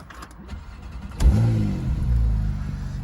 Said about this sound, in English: I'm just going to pop that key into the ignition and start.